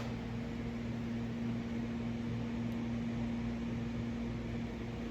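A hot cutter slices and melts polyfiber fabric for a Carbon Cub wing cover, giving a steady close electric hum with a strong low tone throughout and no talking.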